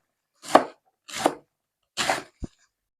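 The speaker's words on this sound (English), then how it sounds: "now we'll just slice it up into the size pieces that we want" A knife slices through cabbage on a board in three crisp, separate strokes about half a second apart, ending with a short sharp tap of the blade.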